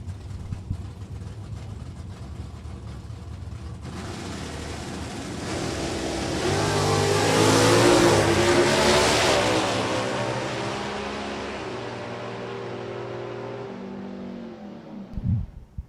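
Drag racing cars, a 1969 Plymouth and a 1990 Camaro IROC, at Maple Grove Raceway idle, then roar off the line, the engine noise swelling loud and fading as they pull away down the strip.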